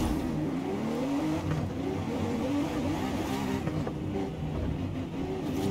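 A V12 mid-engine supercar in Forza Horizon 5 drones and revs steadily throughout, a continuous loud engine note that holds without break and with no talk over it.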